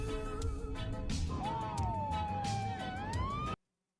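Police sirens wail and sweep up and down over background noise and music, continuous until the sound cuts off abruptly near the end.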